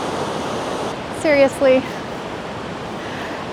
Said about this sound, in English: Okay, I do love this waterfall for a lot of reasons.